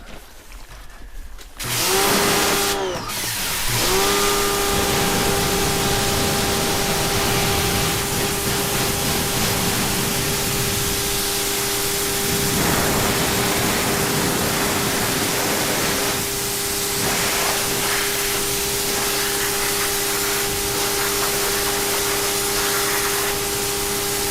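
A hose or pressure sprayer blasts water over crystals in buckets, a loud continuous hiss with a steady hum that starts after a brief pause and runs unbroken for about twenty seconds.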